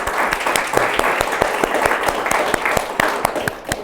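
An indoor audience at a National Trust for Historic Preservation event gives a round of applause, a dense, steady patter of many hands clapping at close range.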